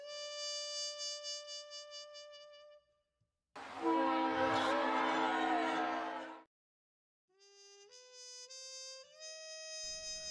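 A train pulls into a station, a few seconds of loud rumble with a sustained whistle-like tone, set between stretches of steady tonal notes with brief silences before and after.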